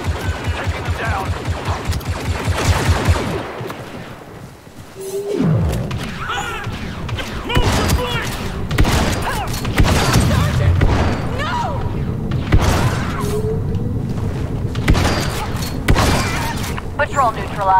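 Blaster fire from a Star Wars Battlefront 2 campaign firefight, with rapid bursts of shots, booms and impacts mixed into busy battle noise while voices talk over the action.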